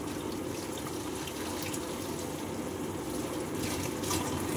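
Clothes rinsed by hand under a running tap, a steady broadband splash of water with wet fabric churning, close and continuous with a brief swell near the end and no talk.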